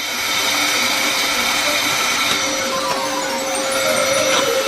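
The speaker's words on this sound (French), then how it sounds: "Un sèche-cheveux ordinaire nous aidera." An ordinary hair dryer blowing steadily to melt chocolate, a continuous loud whirring hiss that holds at an even level throughout, with no speech.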